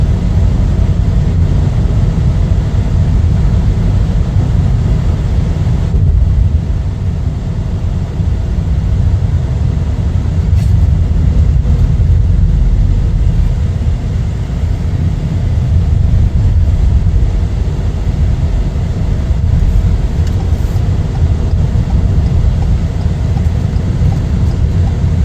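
A 2023 Ford Maverick XLT crew cab pickup drives steadily, its low road and engine rumble filling the cabin continuously and loudly without pause.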